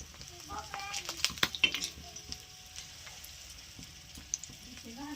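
Mutton pieces frying in their own rendered oil, with a close bubbling sizzle and a few sharp stirring clinks, mostly in the first half, while a person talks over it.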